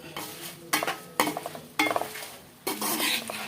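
A spoon scrapes and stirs ground spice powder through a pan for mutton pickle, in four short bursts, with a light sizzle underneath and brief pauses between strokes.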